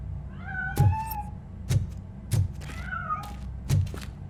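A cat meows repeatedly in the game Robocop: Rogue City, with rising and falling mewing calls mixed with several dull thunks and knocks at irregular intervals.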